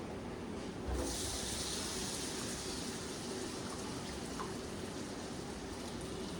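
A steady, dense sizzle of potatoes frying in hot oil with masala, continuous and fairly close, with a brief louder hiss near the start.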